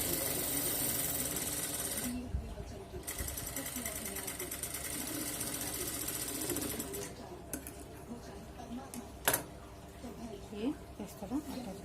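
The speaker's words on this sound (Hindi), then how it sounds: "ताकि हम इसमें फोल्डिंग की सिलाई कर सकें" A sewing machine stitches a folded edge in cotton fabric for a Rajputi kanchali, running in a steady continuous whirring drone with a short pause partway through and a few brief clicks near the end, close and loud.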